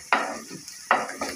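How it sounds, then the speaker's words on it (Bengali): Potato, onion, garlic and dried chillies fry in a pan, with a soft sizzle underneath and two or three close scraping stirs cutting in. "শুকনো মরিচও ভেজে নিবে।"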